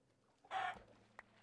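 Chicken clucking in the Minecraft video game, a single short cluck heard close and fairly loud in a quiet scene, followed by a faint click.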